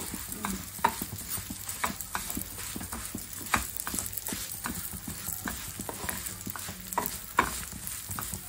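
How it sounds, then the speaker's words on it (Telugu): Bambino vermicelli fries in ghee for semiya payasam, a low sizzle under repeated rhythmic scraping and clicking of a spoon stirring in the pan, steady and close, with no voice over it. "ఎర్రగా వేయించుకోవాలి. ఏదో నెయ్యి పోసినాం ఇట్లా అన్నం అన్నట్టు కాదు."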